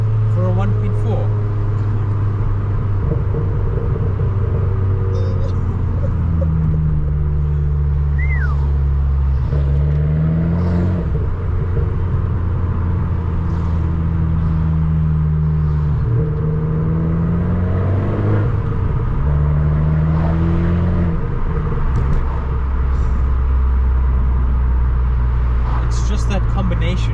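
Abarth 595 Turismo 1.4 turbo hatchback heard from inside while driving, the engine droning and rising through gear changes with turbo whir and exhaust rumble under steady talk in the cabin.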